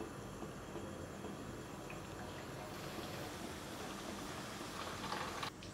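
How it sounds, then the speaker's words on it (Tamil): Square sugar biscuits made from dough without butter or baking soda fry in hot oil, giving a steady, even hiss that stays constant to the end with no voices. "இப்போ நம்ம சதுர பிஸ்கட்டையும் நம்ம வேக வச்சுக்கலாம்"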